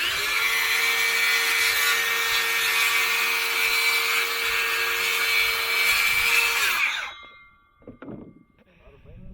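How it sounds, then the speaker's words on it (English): A battery-powered saw rips a 2x4 lengthwise, a loud, steady whining cut with a high motor tone lasting about seven seconds before the blade spins down; brief speech follows afterward. "Who would ever thought you could rip 2x4s with a battery-powered saw?"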